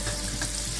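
Butter melts and sizzles in a hot pan, a steady close frying hiss with no voices.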